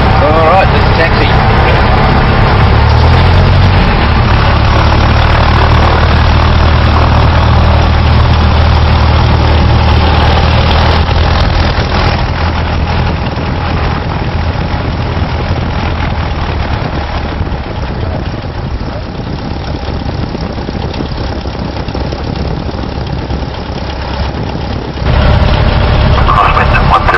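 A Cessna light aircraft engine runs loud and steady while taxiing at Jandakot, a constant droning rumble heard close up for the whole stretch, dipping slightly partway through before coming back up.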